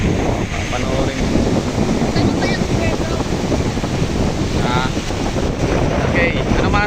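Strong sea waves roll and crash along the Pangasinan seaside as wind buffets the microphone, a steady close roar of surf with no clear breaks, and voices mixed in under the noise.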